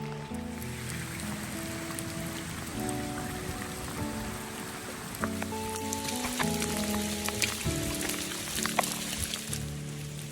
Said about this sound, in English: When it rains in Spain,